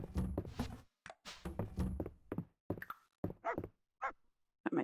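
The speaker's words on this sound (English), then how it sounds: "Pet my dog before I forget." A pet dog in the farming game Fields of Mistria gives a string of short yips and little barks in bursts with brief gaps, fairly close and clear, with no talking over it.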